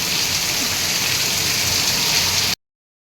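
Heavy rain pours down in a dense, steady hiss close by, then cuts off abruptly.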